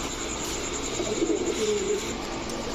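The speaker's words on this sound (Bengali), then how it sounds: "একেবারে ফুল ফ্রেশ একটা কবুতর।" Pigeons at a bird market give soft, low cooing calls in a brief rolling phrase, heard at moderate distance over a steady background hum.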